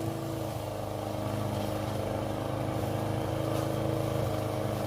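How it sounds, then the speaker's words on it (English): A neighbour's lawn mower drones steadily and constantly throughout, a continuous engine rumble with no pauses. "I might high key end stream if this dude keeps on mowing his stupid lawn."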